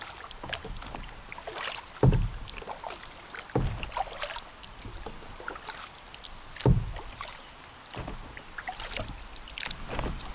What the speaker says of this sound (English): I'm going to anchor the kayak